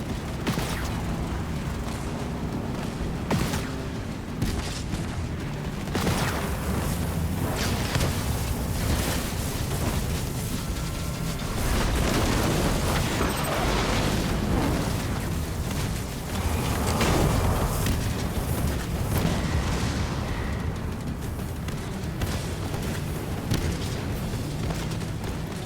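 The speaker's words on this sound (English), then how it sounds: "Scatter bombs ready." Scatter bombs go off in a Halo Wars 2 grand-finals match, a run of heavy booming blasts and rumbling impacts layered over dense battle noise that keeps swelling and rolling for the whole stretch.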